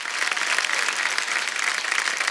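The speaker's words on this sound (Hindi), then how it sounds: "जोरदार तालियां सोनू भाजी के लिए" A studio audience on a Hindi comedy talk show claps steadily, a dense even wash of applause heard alone and at moderate distance throughout.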